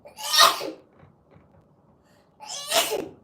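Two sharp sneezes, close and loud, about two seconds apart with quiet in between.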